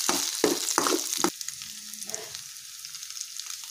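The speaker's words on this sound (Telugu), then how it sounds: "ఎగ్స్ అన్ని వేసి బాగా కలుపుకోవాలి." Boiled eggs stirred into ginger garlic paste frying in a pan for a Telugu gongura egg curry: close, steady sizzling with a few scraping stir strokes at the start, then quieter frying.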